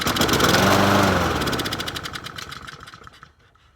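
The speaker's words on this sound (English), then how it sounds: "All right, let's give it a yank." A Honda GCV160 engine on a Troy-Bilt self-propelled lawn mower is pull-started; it roars loudly at once, then the rattling engine noise steadily fades and dies away within a few seconds.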